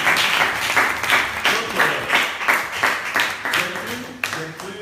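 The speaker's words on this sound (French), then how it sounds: "Applaudissez pour ça" A congregation at an orphanage visit in Divo claps in strong, pulsing bursts, with a dense, close clapping texture that swells and dips rhythmically for about five seconds.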